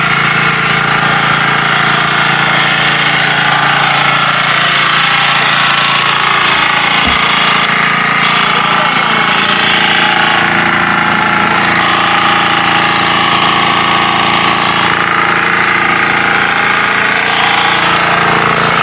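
Engine number 3 running an irrigation water pump that feeds a large hose on a lanzones farm, a loud, steady, rattling drone that holds unbroken throughout.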